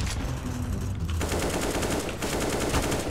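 An AK-47 rifle in a video game fires in continuous rapid spray bursts, dense loud gunfire running the whole time with a brief break near the middle.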